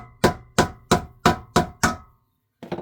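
Hammer blows on metal while working out dents, six loud evenly spaced strikes about a third of a second apart, each ringing briefly, then a pause and a faint start of another sound.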